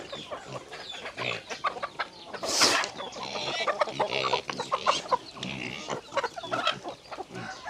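Farm chickens cluck and chatter densely at morning feeding time, many birds close by in an irregular stream of overlapping clucks with a louder squawk partway through.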